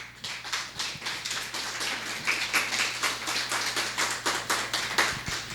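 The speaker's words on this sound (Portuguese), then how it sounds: "pode aplaudir bem forte." Rhythmic clapping from a church congregation, strong regular beats in unison, fairly close and loud over a low steady hum, with no voices.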